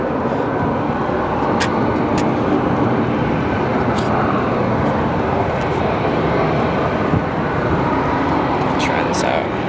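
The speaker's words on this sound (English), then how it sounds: "Coming into land now is a ex-US Airways A321-200 from Los Angeles." A former US Airways Airbus A321-200 comes in to land at Phoenix Sky Harbor, a steady broad jet roar heard from a distance, with a person talking over it.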